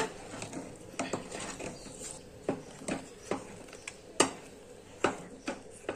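A spoon stirs thick maize dhido in a pressure cooker pot, making a series of irregular wet knocks and scrapes against the metal at close range, with no talk over them.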